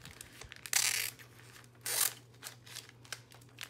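Scissors cut a piece of cardboard packaging in half: two sharp, crisp slicing strokes stand out, surrounded by quieter snips and rustles of handled card, close and fairly quiet.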